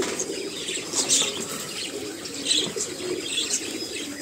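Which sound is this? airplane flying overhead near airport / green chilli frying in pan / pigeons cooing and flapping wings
pigeons cooing and flapping wings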